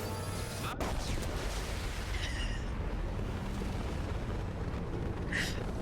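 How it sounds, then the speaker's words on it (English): A large, rumbling explosion in the sci-fi shooter game Mass Effect, with a sharp crack at the start followed by a sustained roaring blast that fills the clip, loud and dense. "Why was that such an atrocious explosion noise?"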